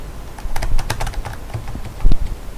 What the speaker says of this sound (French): Désolé si vous entendez mon clavier.